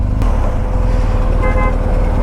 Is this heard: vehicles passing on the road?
yes